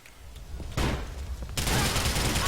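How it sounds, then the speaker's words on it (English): Video game gunfire crackles in dense, loud rapid bursts during a shootout after a grenade is fired into a house, building into a sustained barrage near the end. "the ensuing shootout from shooting this grenade into their house"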